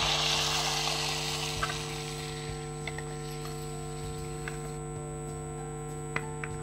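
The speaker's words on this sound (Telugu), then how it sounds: "తాలింపు వేసేద్దాం." Spices for tempering, with cashews and asafoetida, sizzle in ghee. A hissing burst at the start quickly fades, leaving a steady electrical hum with a few faint ticks.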